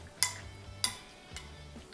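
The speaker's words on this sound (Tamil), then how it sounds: "சிக்கனோட நல்லா கலக்கிற வரைக்கும் இந்த தயிரையும் எலுமிச்சப்பழ சாறையும் வந்து நல்லா மிக்ஸ் பண்ணி விட்டுடலாம்" A spoon clinks against a bowl while chicken is mixed with yogurt and lemon juice, two sharp close taps followed by a softer third, with quiet scraping in between.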